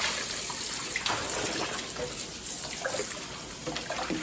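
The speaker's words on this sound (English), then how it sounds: "you really have to wash mustards" Tap water runs steadily into a sink while mustard greens are washed, a continuous close splashing hiss that goes on throughout with no voices.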